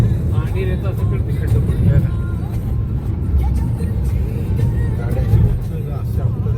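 Mahindra XUV300 SUV driving fast along a ghat road toward Pandharpur, heard from inside as a steady, loud low engine and road rumble throughout, with people talking over it.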